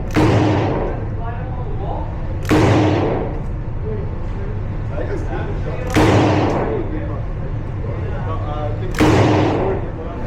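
Handgun shots at an indoor gun range, four loud sharp reports spaced roughly three seconds apart, each with a booming decay, while a voice talks between them.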